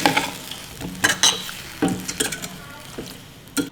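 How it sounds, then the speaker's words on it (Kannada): A moringa drumstick dish frying in a pan is stirred, with repeated scraping and clinking strokes over a continuous sizzle, close and clear. "ಈಗ ಒಂದ್ಸಲ ಮಿಕ್ಸ್ ಮಾಡ್ತೀನಿ"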